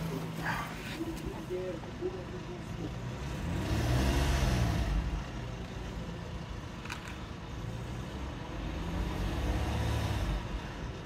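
A misfiring car engine at a repair shop revs up twice under the accelerator, surging louder then settling back to a rough idle, while people talk nearby and a dog barks.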